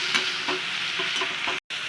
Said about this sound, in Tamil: தக்காளியும் கூட போட்டுடலாம். நல்லா பெரட்டி விட்டு நல்லா வதக்கிடலாங்க.